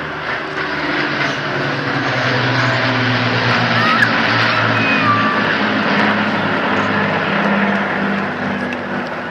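An Avro Lancaster bomber flies past at an air show by the coast at Portrush, a loud, sustained propeller-engine drone that swells and holds throughout.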